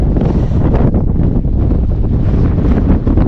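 Strong wind roars and buffets the microphone continuously in exposed mountain terrain in Børgefjell, Norway, during storm Hans in August 2023, a loud, heavy rumble with no pauses and no voices.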